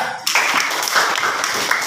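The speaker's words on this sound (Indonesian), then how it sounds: "Terima kasih tepuk tangan buat kelompok 3" Classroom applause for a student group as they finish and return to their seats: a dense, steady patter of many hands clapping close by, starting after a brief quiet moment and continuing evenly throughout.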